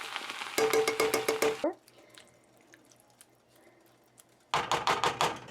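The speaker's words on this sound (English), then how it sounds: "And now it is time to add both cans of tomatoes." Two cans of tomatoes tipped into a pot of spaghetti sauce, a loud wet glugging pour lasting about a second, a quiet gap with small clinks, then a second similar pour at the end.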